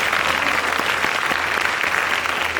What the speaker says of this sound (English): So a round of applause to our young scholarship athletes.